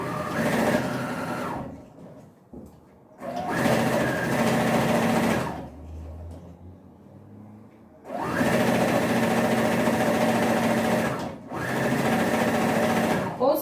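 Sewing machine stitching a fabric cushion cover, running in several sustained loud bursts of a few seconds each, separated by quiet pauses.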